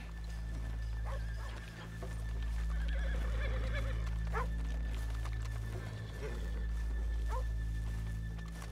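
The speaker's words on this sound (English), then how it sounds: "Let's leave the horses here off the main drive." Horses neighing in Red Dead Redemption 2: a few faint whinnies and snorts rise over a steady low ambient rumble, with no talk.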